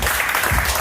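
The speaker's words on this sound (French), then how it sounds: "Donc nous pouvons applaudir aussi les filles qui la rencontrent." A church congregation claps in dense, continuous applause for a short burst, loud and close.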